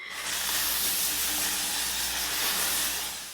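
A drugstore makeup setting spray releases one continuous aerosol hiss that stays steady for about three seconds before tailing off, close and loud with no talking.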